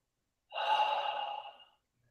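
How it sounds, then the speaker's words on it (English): A single drawn-in nasal breath, quiet and lasting just over a second, taken as part of a breathing technique. It sounds more like one continuous inhale than two sharp sniffs. "This breathing technique is 2 sharp breaths in through your sinus passage."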